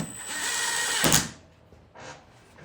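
A power drill drives a 1 5/8 inch drywall screw into wood, giving a loud, steady motor whine for about a second before it cuts off abruptly, followed by a brief softer whir.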